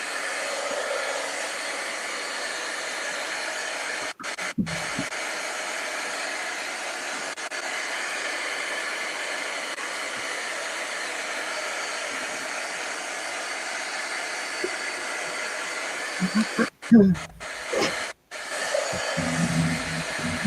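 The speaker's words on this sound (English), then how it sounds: "I figured you were using a blow dryer" A blow dryer runs with a steady, loud, even whooshing rush that barely changes, then is interrupted near the end by a few brief clunks and dropouts.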